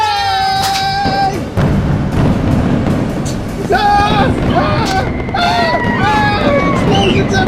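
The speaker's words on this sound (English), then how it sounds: "Explosions everywhere!" Explosions and booms crash through a Fourth of July monster toy scene, loud and continuous, with whistling tones and crackling bursts layered over dense rumbling noise.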